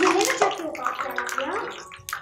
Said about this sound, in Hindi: मिर्ची वड़ा को हम सभी तरफ से सुनहरा होने तक फ्राई कर लेंगे।